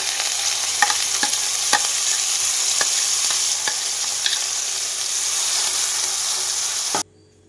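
Half a spoon of ghee sizzles in a steel kadhai over a gas flame, a steady hiss with a spoon scraping and tapping the pan every second or so, continuous and close until it cuts off abruptly.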